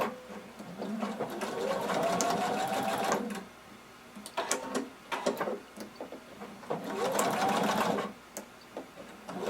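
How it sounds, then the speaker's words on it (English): A sewing machine stitches across fabric in two sustained whirring bursts with a brief pause between them, the seam on a jumpsuit being sewn close and clear with no talk. "we're going to stitch it down together. Just sew across a couple of times."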